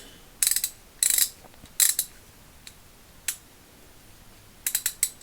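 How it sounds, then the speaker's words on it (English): Walden 4060 vintage 3/8-inch drive ratchet, made in USA, clicking in short bursts of rapid ratchet-pawl clatter, about five separate runs with a few single clicks between, close and crisp over a quiet background. "Yep, it's ratcheting."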